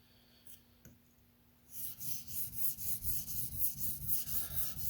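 Steady rhythmic scraping of a TRM Atom knife blade stroked freehand across a sharpening stone while working the tip, close and clear, starting after a quiet pause and repeating in even back-and-forth strokes.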